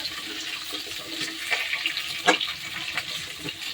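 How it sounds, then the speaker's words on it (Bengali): Papaya, green banana and potato pieces frying lightly in oil, with a steady close sizzle, occasional stirring scrapes and a faint watery hiss. "হালকা হালকা করে ভাজা হোক"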